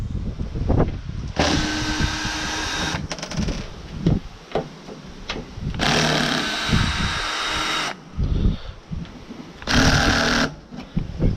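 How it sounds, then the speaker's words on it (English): A power driver backs screws out during an outdoor kitchen install on a travel trailer, with three sustained high whirring runs separated by clicks and handling noise, close. "Now I just got a few more screws there to pull out."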